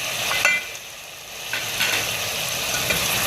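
Ground red chilli frying with beef and ginger in a pot for nihari gives a steady, close sizzle with scraping stirs running through it, and no voices.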